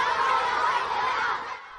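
Large crowd cheering and chattering at an official welcome ceremony at the Great Hall of the People in Beijing, a dense, steady wash of voices that fades slightly toward the end.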